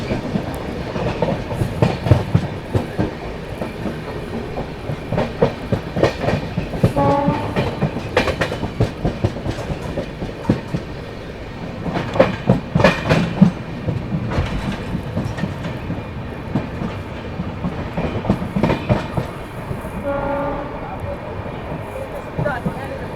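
West Bengal Sampark Kranti Express rolling along the rails near Durgapur, with a continuous rumble and rhythmic clickety-clack of wheels over joints from inside the coach, and voices in the background.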